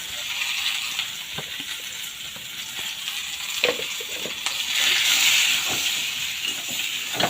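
Vegetable stalks fry in a pan with coriander, cumin and dried chili powder for a potato curry, a soft steady sizzle and hiss broken by light clicks and scrapes of stirring.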